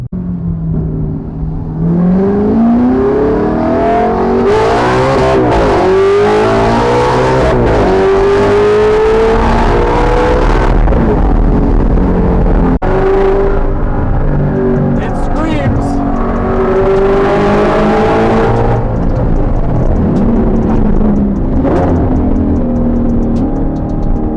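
An Audi R8 with a GT3 center-exit exhaust and transmission tune revs and winds up repeatedly on a freeway, screaming and rising and falling in pitch, loud and close with steady road noise throughout.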